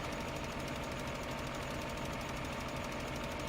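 Tractor engines in Farming Simulator 15, several machines working the same field during sowing, give a steady, continuous drone with a rough, knocking idle texture. The sound holds at moderate level throughout, with no voices.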